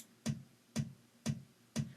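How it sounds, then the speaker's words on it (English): Four steady, evenly spaced kick drum thumps with a bright click on each hit, playing alone in a straight four-on-the-floor pulse. "set up what we call a 4 on the floor drum part"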